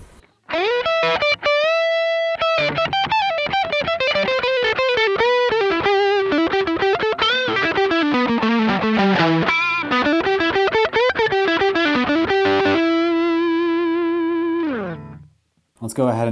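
2008 Gibson Explorer electric guitar with neck and bridge pickups together through heavy distortion, playing a run of loud, ringing notes and riffs, then a long held chord that fades out near the end.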